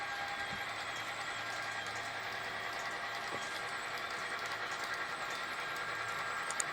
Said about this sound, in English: Here our train is passing the ball signal at Whitefield and has an easy run along level track